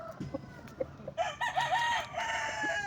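An Asil rooster about seven months old crows close by, a rising then wavering call repeated in quick bursts, with a few soft clucks and rustles before it.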